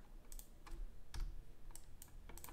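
Someone types a command on a computer keyboard in Rhino modeling software, with scattered quiet keystrokes in small clusters against faint room noise.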